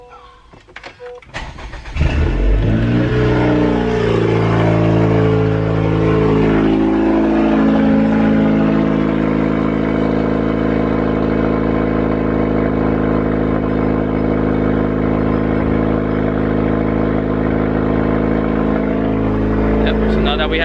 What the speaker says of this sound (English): let's go start the car real quick